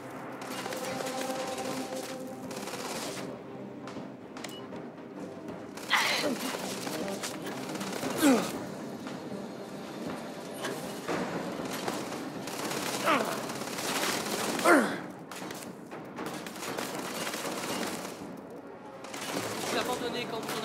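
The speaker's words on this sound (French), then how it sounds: "Cible repérée! Je tire!" Gunfire in the video game Starfield: sustained rapid shooting with sharp louder cracks, mixed with French in-game voices calling out and a busy combat background throughout.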